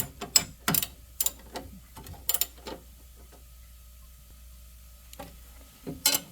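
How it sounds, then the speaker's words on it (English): Combo ratchet wrench working a bolt on the lower rocker arm of a Zenith chiropractic high-low table, giving short sharp metallic clicking bursts at irregular intervals with quiet gaps between, close up and with no talking. "I take my handy dandy combo ratchet wrench here."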